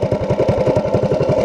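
Doodlebug mini bike running a swapped-in Predator 212 engine with a worn-out clutch, a loud, close, steady chugging drone with rapid even firing pulses throughout.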